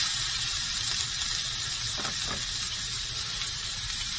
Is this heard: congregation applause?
no